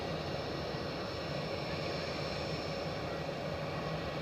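A Lufthansa Airbus A321-200 on final approach to Edinburgh Airport, heard as a faint, distant, steady engine drone with a low hum running unchanged throughout.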